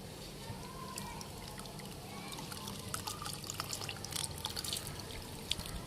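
Water drips and trickles steadily as soaked santol fruit is squeezed by hand, a continuous wet patter with small splashes that grows slightly busier toward the end, close and moderately quiet.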